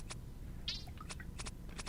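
A full-grown pet cat in Old School RuneScape gives a short, thin game-style meow over a steady low background hum, brief and moderately quiet.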